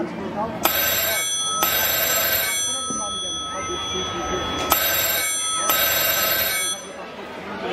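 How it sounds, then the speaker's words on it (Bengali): A telephone rings late at night in a quiet room: four bright electronic ringtone bursts, each about a second long, come in a steady repeating pattern, clear and fairly close. "এত রাত্রে আবার কার ফোন?"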